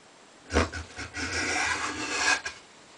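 A Wood River low angle block plane shaves maple end grain in one close, rasping stroke of about two seconds, opening with a sharp catch and ending with a brief scrape.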